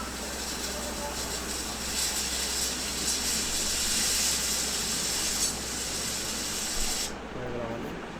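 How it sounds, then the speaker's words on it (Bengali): Fennel seeds, dried chili, bay leaf and dal tempering spices hit hot oil in a loud, continuous hiss and sizzle that runs for several seconds, then drops off abruptly near the end. "এখন ফোড়নের জন্য রেডি করলাম মৌরি, শুকনা মরিচ, তেজপাতা, ডাল ফোড়ন দিয়ে দিলাম"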